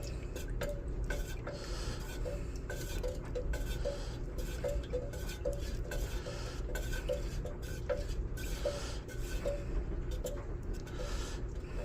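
Melted soy candle wax stirred slowly in a pot, with faint, regular ticking clinks of the utensil against the metal over a steady low hum; no talking.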